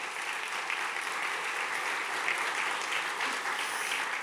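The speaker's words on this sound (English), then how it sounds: "So if everyone could give them a round of applause," Audience applause for guests at a breakfast event, a steady, dense clapping from a sizable crowd that holds even and continuous throughout with no voices over it.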